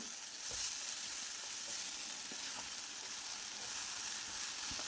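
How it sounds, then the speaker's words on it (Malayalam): Cut snake gourd (potikka) frying in a pan for a traditional dried shrimp curry, a steady broadband sizzle with soft scraping stirs at intervals, close and continuous with no talking. "പൊട്ടിക്ക ഇട്ട് കൊടുത്ത് നല്ലതുപോലെ ഒന്ന് ഇളക്കി കൊടുക്കാം."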